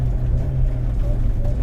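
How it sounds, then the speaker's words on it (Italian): A short throttle blip from a Honda S2000 engine on snow, a brief rise in a low, steady engine drone heard close with no talking. "Piccolo colpetto di gas"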